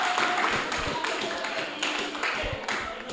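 Audience applause and clapping in a poetry slam venue, a steady wash of many hands at moderate level for a few seconds.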